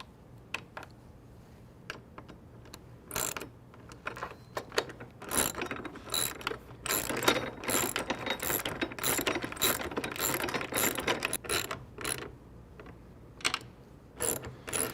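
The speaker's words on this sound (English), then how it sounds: "we'll secure these again using the 4mm Allen and 10mm socket." A 10mm socket wrench ratcheting on bolts securing a Bestop Trektop Pro top on a Jeep Wrangler JK, rapid bursts of clicking pawl ticks in several runs with short pauses, close and without talk.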